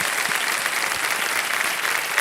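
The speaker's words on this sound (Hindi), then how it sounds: "तालियां बज जाए एक बार फिर इनके लिए।" Dense, steady studio audience applause on the Indian TV quiz show Kaun Banega Crorepati, loud and continuous throughout without any talk.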